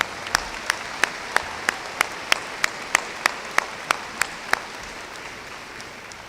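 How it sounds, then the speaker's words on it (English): Applause from a high school graduation ceremony crowd, with one nearby pair of hands clapping loud, evenly spaced beats that stop before the end. "I'd like to give them a round of applause"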